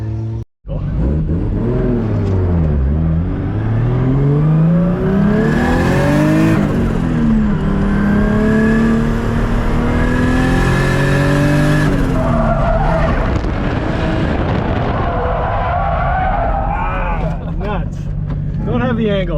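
Turbo-swapped 1JZ-engined Mustang accelerating hard, a loud, close engine note sweeping up and down through gear changes with turbo whine and tire squeal, sustained for the whole run.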